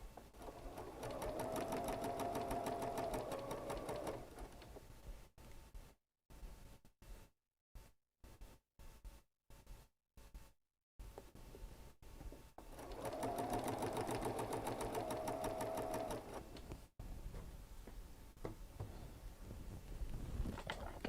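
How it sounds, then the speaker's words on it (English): A sewing machine stitches checkerboard quilt units together in two long, steady bursts, separated by a stretch of short stop-start runs with near-silent gaps between them. "I'm going to take the individual units and sew them into a group of 2"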